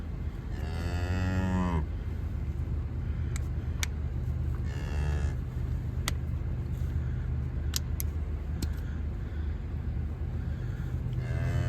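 Heifers and calves low and moo on a farm in cold weather, with two long drawn-out calls and another starting at the end, heard over a constant rumbling engine drone and scattered sharp clicks.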